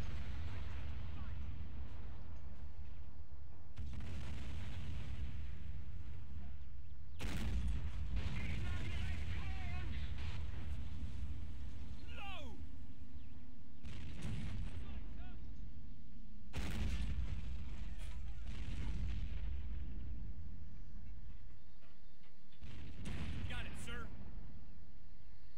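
Artillery and rapid gunfire from a Men of War Assault Squad 2 battle, with an anti-tank gun firing: repeated heavy booms and bursts in clusters over a constant low rumble, with a voice speaking at times.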